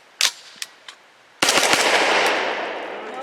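A Grand Power Stribog firing Hornady Critical Duty 135 grain 9mm rounds: a few sharp shots, then a rapid close burst trailing into a long echoing decay outdoors.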